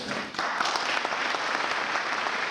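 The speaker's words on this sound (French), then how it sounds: "Je vous invite à applaudir cette naissance" Audience applause for the founding of a new parish in the northern Zinsel area, a dense, steady crowd clapping that stays loud and even for the whole stretch.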